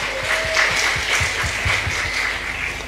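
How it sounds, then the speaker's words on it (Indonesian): Audience at a talk about the NU organisation gives applause, an even crowd clapping texture running throughout, with low rhythmic thumps and a faint tone underneath. "Tepuk tangan untuk NU."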